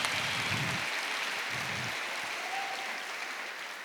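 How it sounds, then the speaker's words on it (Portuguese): An audience at a panel discussion applauds in a dense, steady wash of clapping that gradually fades, with no voices over it. "Salva de palmas, gente."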